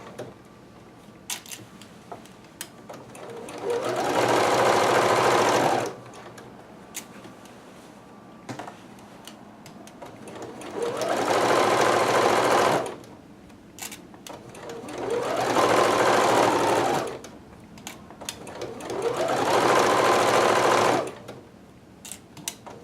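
A sewing machine stitches large kimono pieces in four long runs of steady whirring, each lasting about two to three seconds, separated by quieter pauses with faint handling noises.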